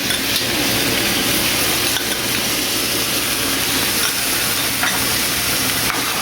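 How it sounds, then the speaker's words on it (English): Quinoa kimchi fried rice cooking in sauce in a pan, a dense steady hiss of sizzling and steam with occasional scraping stirs, loud and close throughout, no talk. "And let's cook our rice in that sauce there."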